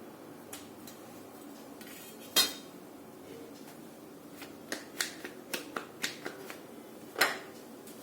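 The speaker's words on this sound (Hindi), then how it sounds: "तो इस तरह से मैं काट लेती हूँ गोल शेप में।" Sweet corn roti dough being cut into rounds on a kitchen surface gives a scatter of sharp, light taps and clicks, one louder knock early and a quick cluster of small clicks later, quiet and close with no talking.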